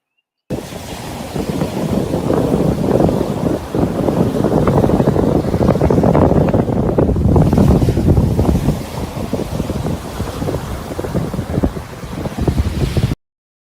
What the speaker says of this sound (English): this little video of the ocean.